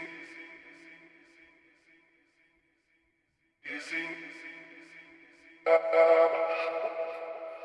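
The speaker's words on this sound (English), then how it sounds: "So I created some vocal chops from these vocals." Chopped vocal sample slices from an Afro House Universe pack, short sung syllables cut into stuttering fragments with a gap of silence, then returning louder in clipped bursts, alone.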